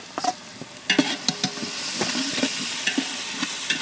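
Biryani masala with ginger-garlic paste ground on a grinding stone, sautéing for mushroom biryani: a soft hiss of frying, punctuated by sharp, irregular clicks and scrapes of a spoon against the pan.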